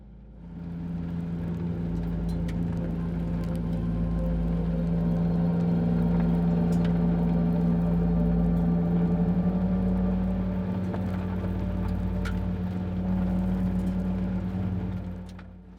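Car driving over gravel-covered cement on a rally-style road, a steady, loud engine drone and road rumble with faint scattered crunches, sustained throughout and fading slightly at the end.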